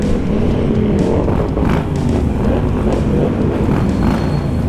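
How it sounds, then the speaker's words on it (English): A pack of motorcycles, including a Harley Road King, rumbles along the road in a dense, loud, continuous engine drone with shifting throttle swells and steady wind-like roar. "with a pack of motorcycles like this"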